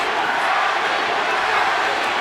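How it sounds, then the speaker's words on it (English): A boxing crowd at the Manny Pacquiao versus Tim Bradley fight chants and roars for Pacquiao in the final seconds, a steady, dense wall of arena noise with no break. "The crowd going for Manny Pacquiao. The chants going up."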